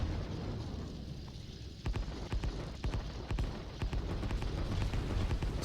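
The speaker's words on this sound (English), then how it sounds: "The cruisers are firing support into this." Cruisers firing support explosions in the video game Line War, a dense rapid series of booming bursts and crackling impacts over a constant roar of battle.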